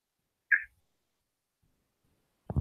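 A single short, chirpy frog croak rings out in near silence, followed by a second rougher burst of sound a couple of seconds later.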